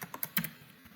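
Quick keystrokes on a computer keyboard while coding a Bitcoin web app, about half a dozen light clicks in an uneven burst, close and quiet, with no talking.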